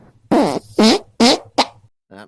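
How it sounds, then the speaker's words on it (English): Cartoonish fart sound effect, four loud buzzing blasts in quick succession with a fainter fifth one trailing after a short pause, close and alone. "Farting animals?"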